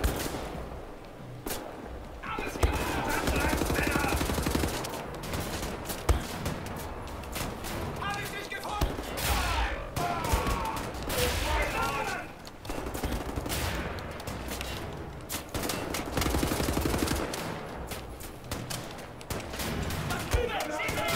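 Sustained gunfire from the video game Wolfenstein: The New Order, dense rattling bursts and booming shots that continue almost without pause, with a voice speaking over parts of the battle.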